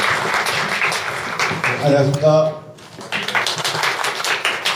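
Audience applause at an evening book-talk event at a convention venue, a dense patter of claps running under a man's spoken greeting, briefly thinning as he speaks, then resuming.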